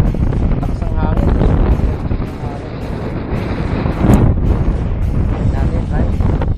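Strong wind buffets the microphone at a seashore during shore casting for fish in the Philippines, a loud steady rush throughout, with a voice talking over it.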